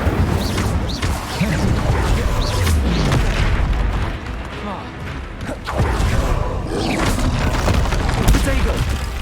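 Booming fire spell blasts during a Hogwarts Legacy combat sequence, loud rumbling bursts and crackling impacts layered over dense battle noise, with a voice speaking over the clamor throughout.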